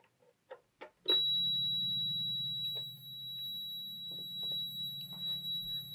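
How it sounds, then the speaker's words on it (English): A REM pod paranormal detector in a reputedly haunted house sets off a sustained electronic beeping tone right after a few clicks, holding steady for several seconds at close range with no talking. "That beeping is coming from the REM pod."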